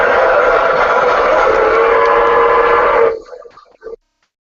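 A train at the War Memorial of Korea in Seoul sounds a loud, sustained whistle for about three seconds, then cuts off abruptly, leaving a few brief fading tail sounds before silence.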